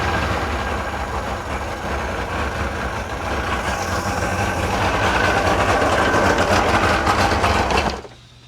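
A small outboard engine on a 17-foot Nitro boat runs steadily at idle, a continuous rumbling drone with a rattling texture that rises slightly before cutting off abruptly near the end.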